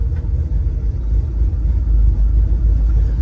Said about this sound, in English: This thing is smooth going down the road, guys.